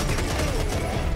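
Gunfire in the video game Serious Sam 4, heard as a dense, loud burst of shots packed into about a second of constant noise.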